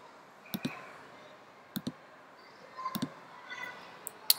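Computer mouse clicks while copying a visual style between objects in drawing software, a few faint isolated clicks and short double clicks scattered over quiet room hiss.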